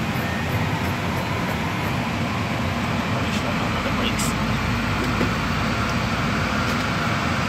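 Airbus A320neo engine turning over on its starter during a dry motoring check, a steady loud broadband whine and rumble held constant throughout, with faint voices in the background.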